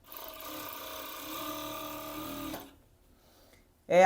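A sewing machine stitches elastic onto a bikini waistband, a steady close whirring run of about two and a half seconds that then stops, followed by near silence.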